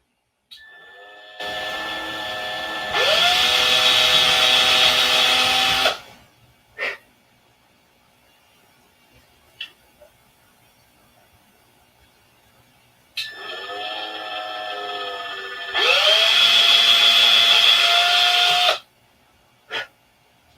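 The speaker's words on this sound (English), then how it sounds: "So we're going to drill through both pieces." A power drill bores through two stacked pieces of wood for a model plane, whining in two long bursts with pitch bending as it bites, separated by quiet gaps and small clicks.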